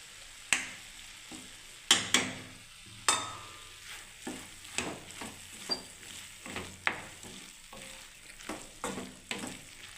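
Ghee sizzles in a pan of vegetarian cabbage curry while a spoon stirs, with a steady soft frying hiss broken by repeated sharp scraping clicks at a close, quiet level.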